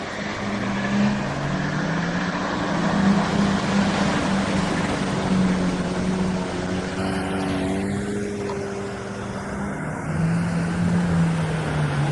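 An off-road vehicle pushes through swamp water, a steady engine drone with sloshing water throughout as the bow wave spreads.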